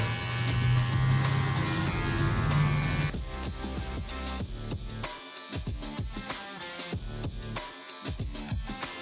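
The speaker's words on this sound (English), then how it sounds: "Gradually closing the lever on the clipper as I get lower." An electric hair clipper buzzes steadily up close while fading a modern mullet, with the lever gradually closed. The tone shifts partway through into a choppier, intermittent trimming buzz.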